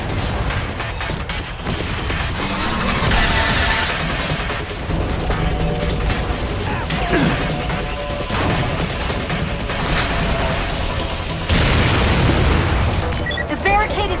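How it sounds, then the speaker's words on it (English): An explosive charge detonates a barricade in the sci-fi shooter game Vanquish, a broadband boom swelling near the end over steady mechanical clanking and a dense, loud game soundtrack. "The barricade is down, Sam."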